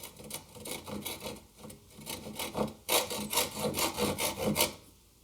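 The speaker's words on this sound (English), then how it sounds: "It's just a matter of sawing to the line." A carcass saw cuts through wood in steady back-and-forth strokes, rasping and rhythmic, close up with no talking.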